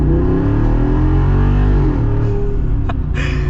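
A 2022 Jeep Wrangler Rubicon 392 Xtreme Recon accelerates, its engine a loud, steady roar from inside the cabin that climbs in pitch, with brief shifts near the end.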